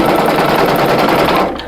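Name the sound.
embroidery sewing machine stitching out an applique heart patch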